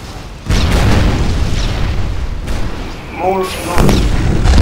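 Ship cannon fire and explosions in a Darkfall naval battle, a deep continuous rumbling boom that swells after half a second and again toward the end, with someone speaking briefly over it.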